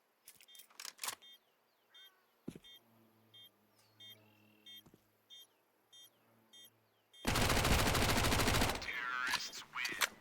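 Counter-Strike gunfire in a competitive esports playoff round: a few sharp shots early, then a dense, loud burst of rapid fire near the end, with faint game effects between.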